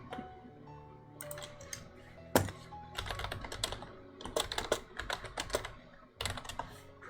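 Rapid, dense clatter of fast typing on a computer keyboard, keys striking in quick irregular bursts with brief pauses, close and fairly quiet, alone with no talking.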